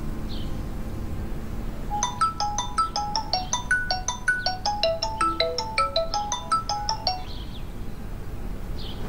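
A phone ringtone for an incoming call plays a bright, repeating melodic pattern for about three and a half seconds. It rings clearly over a quiet low room hum, with no voices.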